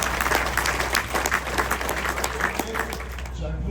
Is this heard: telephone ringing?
no